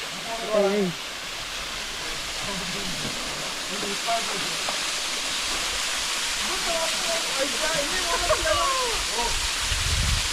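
A waterfall deep in a forest near Kozhikode, Kerala, gives off a constant, loud, broad rushing roar, with people talking over the falling water.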